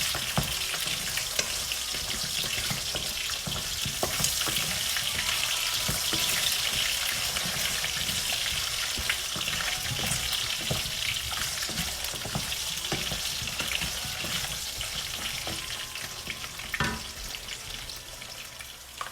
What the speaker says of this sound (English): Add potatoes and fry it until it's kind of golden brown.